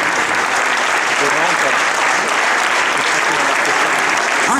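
Sustained, dense applause from an audience fills the whole stretch at an outdoor prize ceremony for a U13 football team at a youth tournament, close and steady throughout with no pauses.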